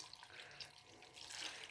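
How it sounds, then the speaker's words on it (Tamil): Water pouring from a jar into neer dosa batter, a quiet, steady hissy splash that runs for a couple of seconds without talk. "இந்த ஜாரில் இருக்கிற தண்ணியை ஊற்றுனேன்."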